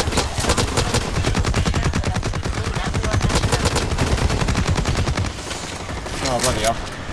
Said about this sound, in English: Fast firing.